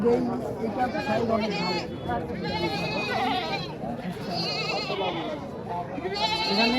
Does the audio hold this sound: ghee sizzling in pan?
no